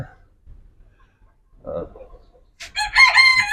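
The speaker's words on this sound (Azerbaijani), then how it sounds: "Bunlar qara koşinlərdir. Qara koşin. Macaristan xəttidir." Black Cochin chickens of a Hungarian line cluck softly and sporadically at first, then a rooster lets out a loud, close crow near the end.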